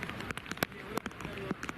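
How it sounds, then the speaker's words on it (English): Rain falling in the background at an outdoor cricket ground, a steady fine patter with scattered sharp drop taps, faint and fairly close. "that's also going to bring on some more rain, as we can hear it in the backdrop"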